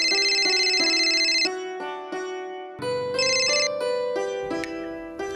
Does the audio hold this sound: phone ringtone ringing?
yes